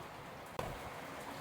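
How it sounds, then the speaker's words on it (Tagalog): Heavy rain keeps up a constant, even hiss, broken by one short louder knock or splash near the middle, with no talking. "ang lakas po ng ulan"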